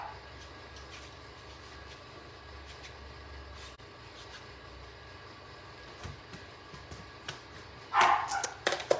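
A dog barks indoors, faint and muffled at first over a low steady hum, then a burst of louder, sharper barks near the end.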